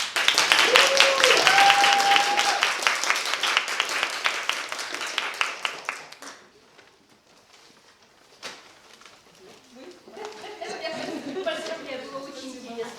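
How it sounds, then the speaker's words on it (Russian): Crowd applause at a science slam for young researchers rings out loud and full for about six seconds, then fades to near quiet; a second, softer burst of clapping and murmuring rises near the end, with a voice heard briefly. "Ваши аплодисменты Ирине."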